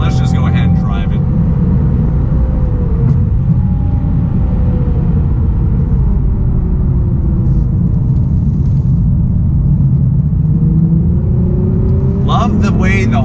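A 2019 Nissan 370Z NISMO drives along with a loud, steady engine drone and road rumble, the pitch rising and falling through gear changes, while someone talks briefly at the start and end.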